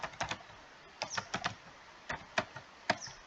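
Keys clicking on a computer keyboard while a customer name is typed into billing software, about a dozen sharp taps in short irregular bursts with brief pauses, close and crisp, no voices.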